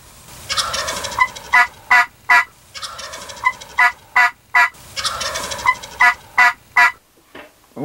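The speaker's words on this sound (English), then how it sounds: "the bird started gobbling" Wild turkeys gobble in a hunting setting, in three long rattling calls, each followed by a run of sharp, loud gobble bursts, all close and clear with no talking.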